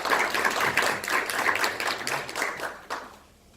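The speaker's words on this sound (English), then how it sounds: "can we give a round of applause for Cameron again?" Audience applause at an annual health service sharing event, with steady clapping from a crowd of moderate loudness that fades away at the end.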